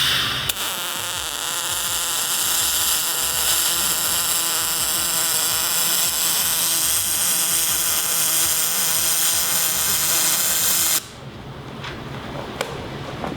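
Spool gun welding bead laid in one continuous stretch without pulse, a steady loud crackling hiss that runs unbroken for about eleven seconds before cutting off to quieter room noise.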